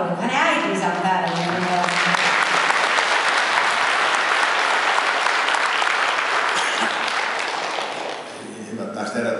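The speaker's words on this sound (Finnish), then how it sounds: "Toni Kakolle saa antaa aplodit." An audience applauds composer Toni Kakkolanmäki at a concert, a loud, dense, steady wave of clapping lasting several seconds before fading, with a voice speaking briefly at the start and again at the end.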